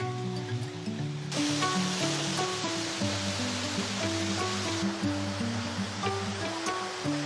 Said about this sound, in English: We're now coming up to this waterfall.